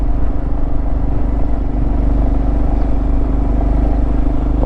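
A vehicle engine labouring and overheating on an uphill climb, the vehicle barely pulling, runs as a loud, steady, close droning hum with a low rumble and no breaks or voices.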